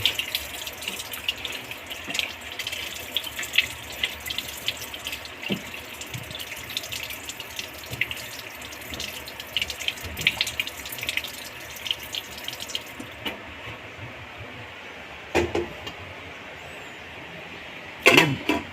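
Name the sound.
water poured into pot for cooking paksiw na pata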